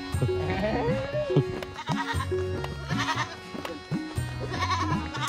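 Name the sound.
goats bleating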